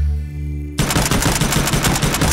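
A CX4 semi-automatic carbine fires a rapid burst of shots inside the VR shooting game Hot Dogs, Horseshoes & Hand Grenades, loud and close after a brief quieter lead-in.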